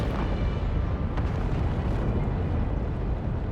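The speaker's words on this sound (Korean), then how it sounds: "화산 폭발!" A volcano erupts in the video game Genshin Impact, at a volcano in the far west of the continent, a loud, sustained rumbling roar with low booming bursts that fills the whole stretch without pause.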